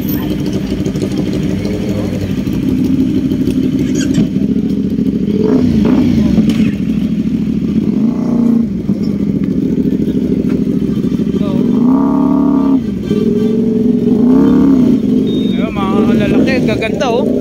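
Big 1000cc motorcycles idle and rev outside a roadside eatery, engines rumbling loudly with repeated throttle blips rising and falling, while people talk nearby.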